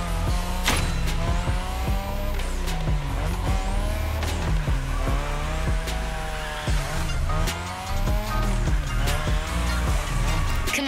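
A modded Mazda RX-7 in a racing game, its engine revving hard through repeated gear shifts while tires squeal in long skids, loud and continuous throughout.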